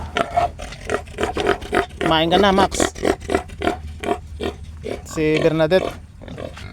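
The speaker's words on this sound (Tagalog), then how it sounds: "Kakatapos lang natin pakainin ng ating mga alagang baboy." Farm pigs grunt and snort loudly at close range after being fed, with two longer squealing calls, while a person talks over them throughout.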